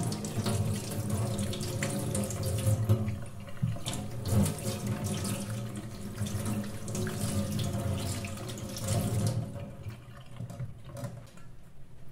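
Raw chicken is washed under a running kitchen tap, a steady close splash of water into the sink with shifting gurgles as the meat is handled, stopping near the end.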